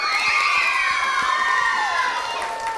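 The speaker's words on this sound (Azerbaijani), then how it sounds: "Pumba Kids'i ürəkdən alqışlayırıq." An audience at a talent festival in Azerbaijan cheering loudly, with children shrieking and shouting in a sustained high-pitched roar and scattered claps beneath, close and continuous.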